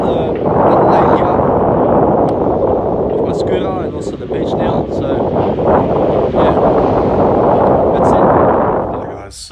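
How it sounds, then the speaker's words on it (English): Strong wind gusts roar across the microphone on a windy lake beach, a loud, continuous buffeting rush that swells and eases, with a voice faintly mixed in. "It's very windy."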